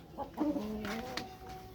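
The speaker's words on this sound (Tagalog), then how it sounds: "So pumapalag na siya dito sa hen natin na J47" A hen gives a few short, close clucks in quick succession against a quiet background.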